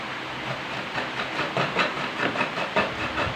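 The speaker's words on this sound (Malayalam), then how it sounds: "മഴ" Heavy rain falling outside during monsoon weather, a dense steady hiss with brief louder gusts of spatter, no voices, heard in a home kitchen.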